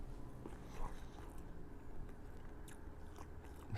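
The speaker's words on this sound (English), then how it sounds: "Excuse my chewing my food." A person chewing food up close, with soft repeated biting and crunching sounds over a low, steady background hum.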